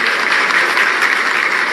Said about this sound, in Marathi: त्यांचं एकदा टाळ्या वाजवून स्वागत करा